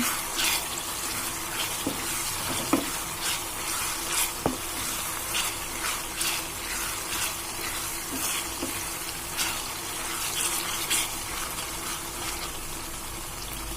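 Ginger garlic paste, half a teaspoon, frying in a pan for egg and fenugreek-leaf curry, giving a steady close sizzle with occasional stirring scrapes and ticks throughout, no talking.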